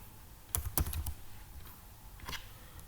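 Short clusters of computer keyboard keystrokes while Java code is typed, a quick burst of several clicks followed by a pause and a few softer taps, close and fairly quiet in a still room.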